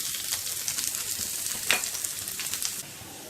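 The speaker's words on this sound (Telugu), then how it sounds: "జీలకర్ర వేగిన తర్వాత కరివేపాకు, ఉల్లిపాయ ముక్కలను వేసి వేయించుకోవాలి" Curry leaves and onion pieces frying in hot oil with cumin, a bright steady crackling sizzle with a brief stir, close and fairly loud, easing slightly at the end.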